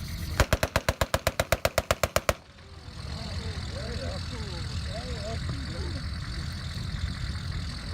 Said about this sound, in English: Let's see if we can fire the machine gun.